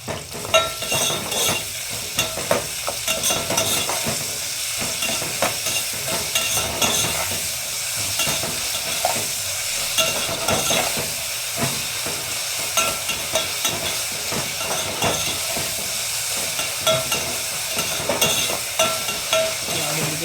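Vegetables for a vegetable biryani sizzle steadily in a hot pan while being stirred, a continuous loud frying hiss with faint scraping, no voices.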